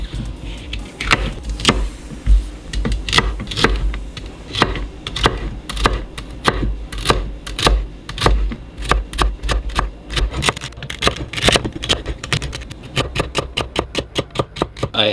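A knife chops through lemon and celery on a cutting board, giving a steady run of sharp, close knocks that speed into a quick, even rhythm near the end.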